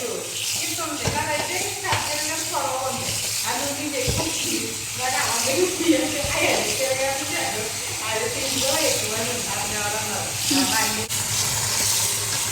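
A kitchen tap runs steadily while gongura leaves are washed in a sink, a continuous hissing splash under someone talking throughout.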